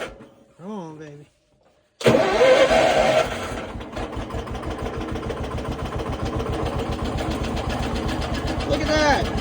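A Wheel Horse garden tractor with a Kohler engine is cranked over in 12-degree cold and catches, settling into a loud, steady, rhythmic chugging idle up close; a voice is heard briefly before it fires.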